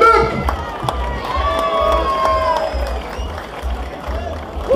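Campsite festival crowd applauds and cheers for the band, with a mix of clapping and shouts and some whistle-like cries, while a low rhythmic thump pulses underneath.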